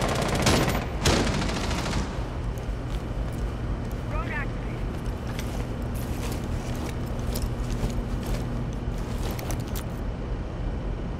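Rapid gunfire bursts crack out in Rainbow Six Siege during a team deathmatch bomb round on the Yacht map, with loud shots over constant game noise while players talk.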